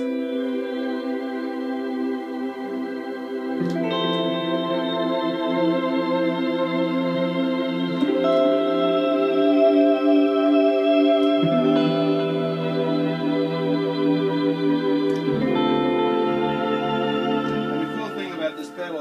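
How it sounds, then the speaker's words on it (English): Sustained, smooth string-like synth chords from a guitar effect, swelling and shifting every few seconds, steady and fairly loud with no talking. "But the best sound is this string sound,"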